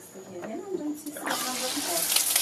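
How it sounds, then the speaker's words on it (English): Shower running hot and cold water at a volunteer oyster farm in Malaysia, a hissing spray that swells louder halfway through, with a person talking over it. "We have two showers, quick demo, hot and cold running water,"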